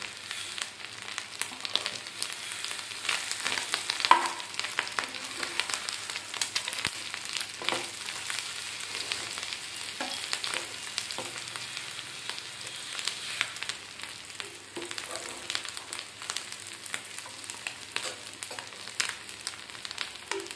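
Ingredients for an Andhra-style coconut mango chutney fry in a pan with a steady, crackling sizzle, broken by the occasional clink of stirring. No one speaks.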